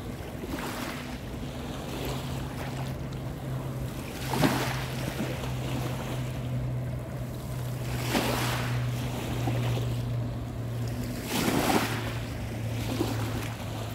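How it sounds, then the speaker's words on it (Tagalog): Large sea waves crash and surge in repeated swells every few seconds over a steady engine hum, with wind buffeting the microphone throughout. "Naku po, ang laki ng alon."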